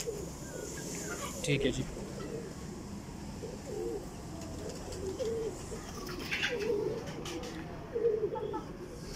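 Flying-breed pigeons coo in low, rolling murmurs through a steady outdoor hum, with a few brief louder bursts; someone speaks briefly over them.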